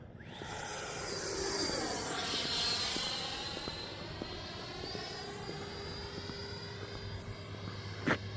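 A Freewing F-16 RC jet does a touch and go, its ducted-fan whine sweeping past and fading while the pitch shifts steadily, heard outdoors from a distance with no talk.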